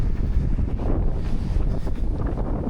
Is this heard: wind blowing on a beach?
yes